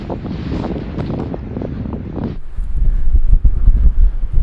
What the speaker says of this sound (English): Wasn't expecting it to be this windy.